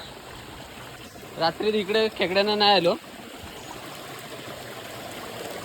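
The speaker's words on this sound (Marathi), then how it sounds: "आमचे झरे आहेत मस्त असे धबधबे छोटे छोटे" A small stream with little waterfalls in the Konkan countryside, a steady wash of flowing water running throughout, with someone talking briefly over it in the middle.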